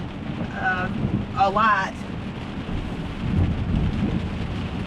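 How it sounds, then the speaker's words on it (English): Rain pattering on the windshield of a moving car during a daily commute, a dense steady wash of drops and road noise with someone talking briefly over it. "to kind of match how the rain is coming onto the windshield"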